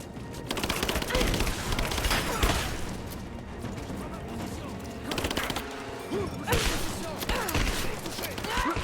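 Gunfire in the Rise of the Tomb Raider video game arrives in dense bursts of rapid shots and impacts, loud and sustained over several seconds, mixed with in-game voices and a player talking.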